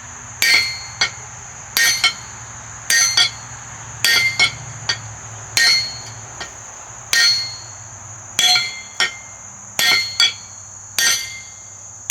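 Hot steel struck on an anvil to upset its end, heated in a coal forge for a fire poker: loud, close hammer blows in regular clusters of two or three ringing strikes with short pauses, repeating steadily.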